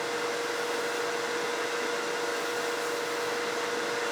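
A lathe runs at about 3000 RPM, a steady, even mechanical whine with a faint tonal hum that holds unchanged and close throughout.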